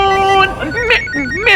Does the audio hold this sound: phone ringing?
yes